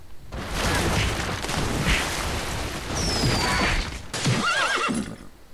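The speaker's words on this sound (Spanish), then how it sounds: "Un caballo." A horse in the Monkey Island video game neighs over a dense, loud, crashing soundscape with hoofbeat-like clatter and a brief whistling tone, the whinny rising clearly near the end.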